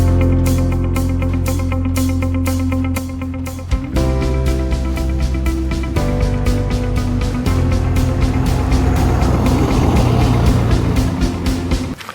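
A motorhome under way on the road, a loud steady engine drone and road rumble that shifts pitch as it changes gear, with no talking.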